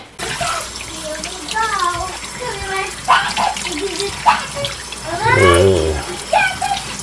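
Asparagus is rinsed under a running kitchen tap, a close, continuous splashing of water with uneven surges as the spears move through the stream, while a person talks over it.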